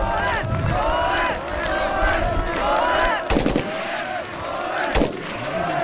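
Two sharp gunshots ring out at a military district contest where soldiers fire without aiming at a target only 18 metres away, the blasts cutting through steady background crowd noise and talk.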